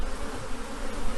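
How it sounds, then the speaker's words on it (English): Honeybees buzz thickly and steadily at open hive frames during an inspection of a colony with emerging queens after a swarm, the hum dense and close throughout. "there's a little cluster of bees there"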